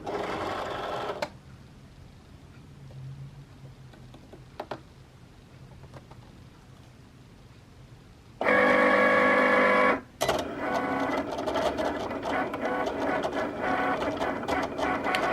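A Cricut cutting machine runs with a sticker sheet loaded on its mat. It gives a loud mechanical whir and a burst of rapid motor buzzing partway through, then a steady whirring hum as it keeps cutting nearby.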